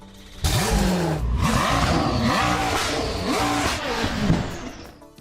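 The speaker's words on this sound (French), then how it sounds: "L'Absolute Jesko est équipée d'un moteur V8 biturbo de 5 litres, développant 1600 chevaux" A Koenigsegg Jesko Absolute's 5-litre twin-turbo V8, rated at 1600 horsepower, revs hard and loud, rising and falling through several sharp surges close by with no voices.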